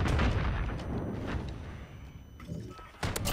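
Heavy shotgun blasts in Modern Warfare, with booming reports spread across the stretch, a pause of quieter ambience, then a sharp final shot near the end.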